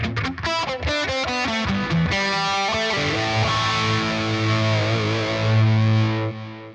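An electric guitar played through a phaser, tape echo delay and reverb rings out in a loud, distorted tone, with rapid picked notes giving way to sustained chords that swirl and trail off in echoing repeats.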